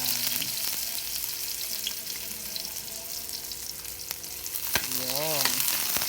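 Garlic frying in a small pan for adobong sitaw, a soft continuous sizzle and crackle of oil at moderate level, with a few light utensil taps and a short squeak toward the end.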